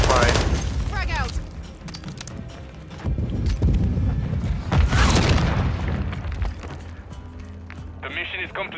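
Frag grenade blast in Call of Duty MW3 team deathmatch, a loud broadband boom around the middle amid dense gunfire, footsteps and game effects, with a voice talking over the chaos.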